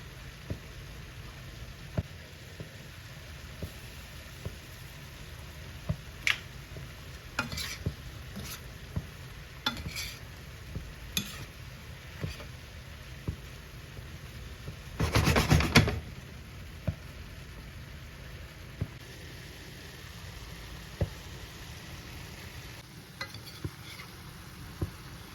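Red onion and ginger stir-frying in a pan for shrimp and vegetable rice, a soft steady sizzle with scattered scraping stir clicks and one louder burst of stirring partway through, no talking.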